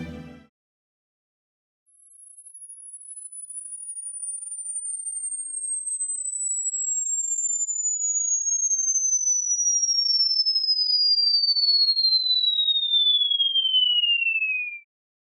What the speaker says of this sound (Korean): 0세부터 90세까지 들을 수 있는 주파수가 재생됩니다